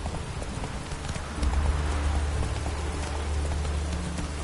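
A horse gallops in The Witcher 3, with steady hoofbeats mixed into a rainy game soundscape at moderate volume, no voices.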